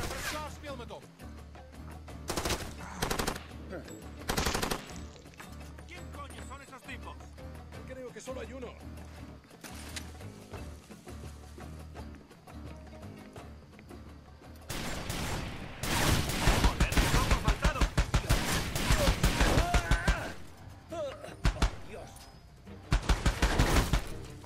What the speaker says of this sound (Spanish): ¿Quién me dispara y por dónde?